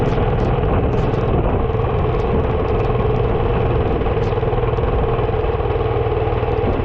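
Motorcycle engine while riding in rain on the Manali to Leh route near Khardung village, a loud steady drone with wind and clatter throughout, with no talk.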